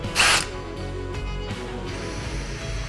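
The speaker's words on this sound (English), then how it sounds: "Drill holes into the panels using a step bit." A power drill with a step bit whines steadily as it bores holes through polycarbonate storm panels, with a sharp burst at the start, loud and close, no talking.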